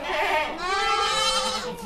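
A male goat kid on a goat farm bleats loudly and continuously as it is lifted, a wavering cry with rising and falling pitch that carries clearly for about two seconds.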